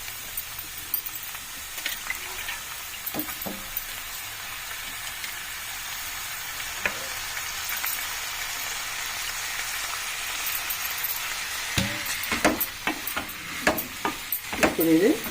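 Onions fry in a pan with soaked chana dal and green chillies for an onion and fresh coconut curry, a soft, steady sizzle with occasional stirring scrapes that grow busier toward the end.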